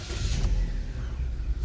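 A Vauxhall Astra J petrol engine with a cylinder 1 misfire runs nearby as a low, uneven rumble, slightly rough and wavering, with no talking.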